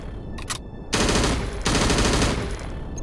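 Rapid automatic gunfire in an anime-style war video game, loud and close: a couple of short bursts, then a sustained stretch of continuous fire, with no voices.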